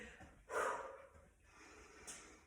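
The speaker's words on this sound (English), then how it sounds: "Nose, mouth breath." A sharp, loud breath taken through the nose and mouth during a glute, legs and core workout of lunges and plyometric jumps, with a softer follow-through exhale and a brief sniff near the end.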